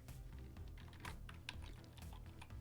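Steady typing on a computer keyboard while entering code, with a quick run of close, quiet key clicks and no voice.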